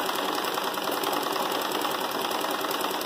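An embroidery sewing machine stitches in a fast, steady rhythmic whir, continuous and close throughout the short stretch.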